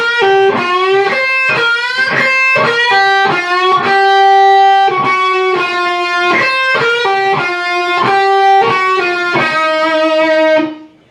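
Distorted electric guitar plays a solo lick slowed below tempo: a run of sharply picked notes with bends and pull-offs, then a held note ringing out at the end, loud and alone.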